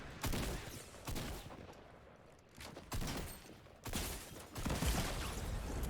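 Shotgun blasts in Fortnite Battle Royale, several heavy booming shots about a second apart, each a broad burst followed by a short decay, loud against continuous game background noise.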